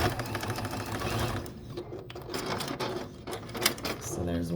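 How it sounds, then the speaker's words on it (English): A sewing machine runs stitching lines along a quilt brush roll in close, rapid bursts with clicking pauses, while a voice talks through part of it. "I'm going to run 2 stitching lines all the way the length of this"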